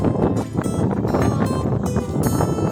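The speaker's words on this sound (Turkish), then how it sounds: "Rüzgar var." Cold wind buffeting a microphone outdoors in a park, a loud constant rumbling roar with gusty surges and no clear voices.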